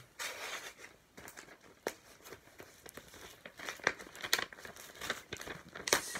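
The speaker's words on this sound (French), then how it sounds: "Alors, on va déballer ce colis là." Cardboard parcel packaging being unpacked by hand, with bursts of crinkling and crumpling plus short tearing rips, close and fairly quiet, no talking.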